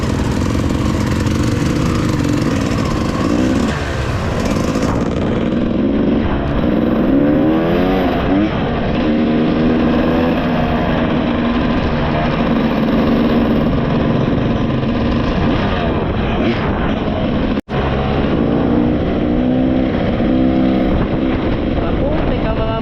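Several trail motorcycles run on a rain-soaked dirt trail in Bulacan. Their engines drone loud and steady throughout, revving and shifting pitch at close range, with a brief cut partway through.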